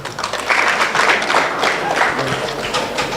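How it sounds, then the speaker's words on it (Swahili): Steady applause from an audience at a university symposium closing session, a crowd clapping continuously for a few seconds with no pauses. "tuwapigie makofi wote"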